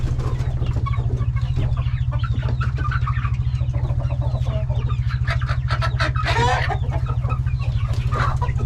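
Chickens clucking inside a dimly lit coop with a roost bar, many hens murmuring and clucking continuously at close range over a steady low hum, one louder squawk near the end.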